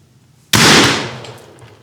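A single sharp, loud gunshot from a 180-year-old antique rifle cracks out of near silence and then decays into a lingering ringing tail outdoors.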